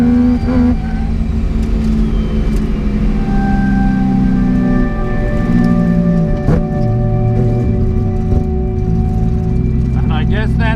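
A project car's engine revs and breaks up, running slightly off-tune on race gas, with a steady close mid-pitched drone and uneven stumbling throughout while people talk over it.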